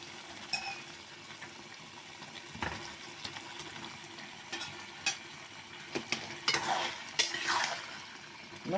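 A Bengali curry of large aair fish with flat bean seeds and tomato cooks in a hot pan, sizzling and bubbling steadily while a spoon stirs and scrapes. Louder clattering sweeps come toward the end, up close, with no talking.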